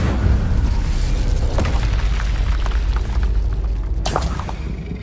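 Fire spell blast from the Incendio spell in a video game, a loud, sustained roaring boom with deep rumble and scattered crackling pops throughout, ending with a brief sharp burst.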